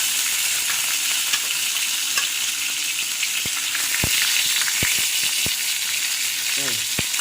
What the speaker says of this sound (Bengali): দুইটা করে ভাজি আমি ভাজতে থাকি।